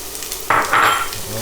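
Shallots, celery and carrots drop into a hot pot for tomato bisque and burst into a close, loud sizzle in two quick surges over steady frying hiss.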